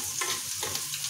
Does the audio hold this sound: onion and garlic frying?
yes